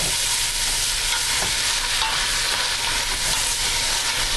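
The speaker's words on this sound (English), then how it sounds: "give this a quick saute" Shrimp sauté and sizzle in a hot pot for sweet and sour shrimp, giving a steady, loud, close frying hiss with faint scraping from stirring throughout.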